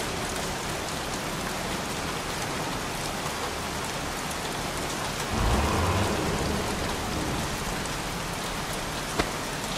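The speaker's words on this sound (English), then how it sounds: "Goddamn rain. Soaking wet." Heavy rain pours steadily in the game Heavy Rain, a dense close hiss of drops on surfaces with a low rumble of thunder rolling in partway through.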